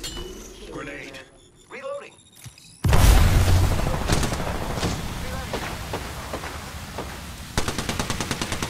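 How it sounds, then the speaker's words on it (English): A grenade explodes in the Apex Legends video game: quiet game sounds give way to a sudden loud boom near the three-second mark, followed by sustained rumbling gunfire and a burst of rapid shots near the end. "Grenade."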